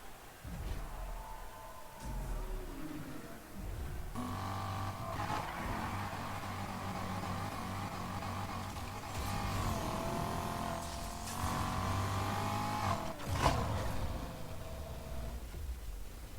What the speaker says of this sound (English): take the cars and do a little bit of driving on the test tracks